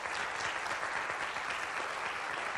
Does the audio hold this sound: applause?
yes